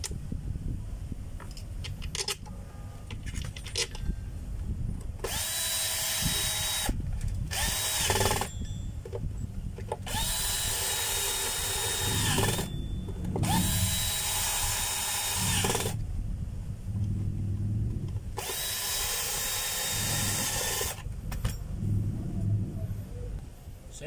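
Power drill driving screws while reassembling a motor after fitting its armature and field coil, in several loud whirring bursts of a few seconds each with short pauses between them, over a constant low background rumble.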